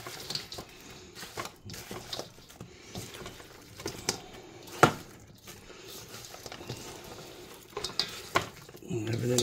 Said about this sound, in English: now I'm just going to mix these around so everything gets coated